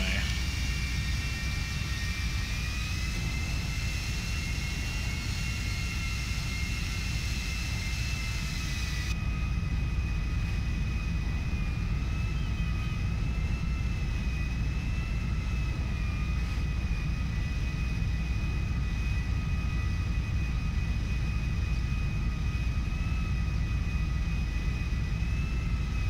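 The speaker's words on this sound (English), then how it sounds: "My taxi to the runway." Jet airplane in Grand Theft Auto V taxiing toward the runway, a steady whining engine drone with high tonal hum and low rumble throughout, the pitch holding nearly level.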